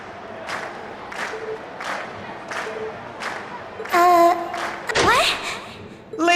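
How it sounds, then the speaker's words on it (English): In the Trails of Cold Steel video game, a concert crowd cheers in rhythmic waves, repeated surging shouts at regular intervals, then louder bursts of chatter and synthesized game sounds near the end. "we've heard your cheers loud and clear"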